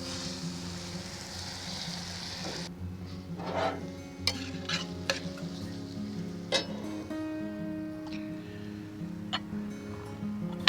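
Pasta is stirred together with bacon, smoked rainbow trout and other carbonara ingredients in a Matfer Bourgeat carbon steel pan, giving soft scraping and sizzling under a steady background hiss, with a few sharp utensil taps partway through.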